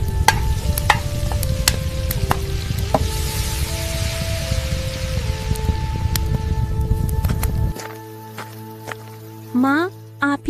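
Potatoes and capsicum being tempered in hot oil, giving a steady loud sizzle with stirring for most of the clip before it cuts to quieter background tones, in an animated cooking scene.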